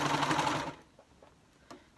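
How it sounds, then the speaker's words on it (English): A cover stitch sewing machine stitching a pocket runs with a loud, steady whir for under a second, then stops, leaving a few soft clicks and taps. "I'm using my cover stitch, but you could use any machine"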